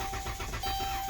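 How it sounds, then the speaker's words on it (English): A car engine cranks over on its starter without catching. The steady churning whir runs unbroken and loud for about a second. "So let me crank this baby up and let's go see what we got."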